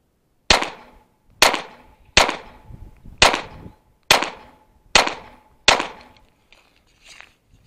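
Seven sharp live-fire gunshots crack at a shooting range during a 25-yard target-focus drill, spaced roughly a second apart, each loud and close with a short echoing decay.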